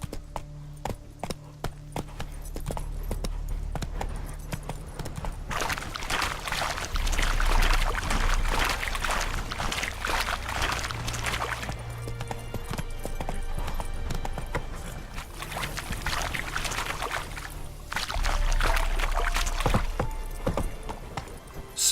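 A horse in the Witcher 3 video game gallops with fast rhythmic hoofbeats, surging louder and easing off in waves. Water sounds and a whinny may occur in between.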